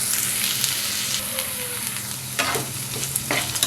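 Chopped carrot and potato frying in a pan for khara bath, a continuous loud sizzle up close with a few stirring scrapes toward the end.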